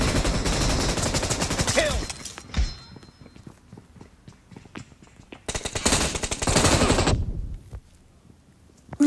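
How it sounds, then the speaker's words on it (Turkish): Heavy automatic gunfire in the PUBG battle royale game, dense rapid bursts that stop and then resume. Scattered footsteps and smaller sounds fill the gap, and the bursts are loud and close with no speech over them. "Üstümden vurdu adam beni."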